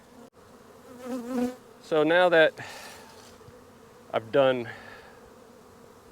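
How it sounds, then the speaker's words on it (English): Bees swarm and buzz excitedly around several opened beehives, a dense, steady drone that continues throughout while someone talks close by. "The bees are in too much in a frenzy."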